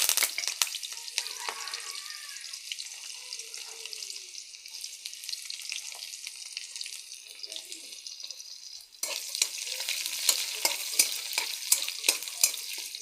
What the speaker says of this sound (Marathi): आपलं तेल छानसं तापल्यामुळं आपला कांदा कढीपत्ता आणि जिरं छानसं भाजलं जातं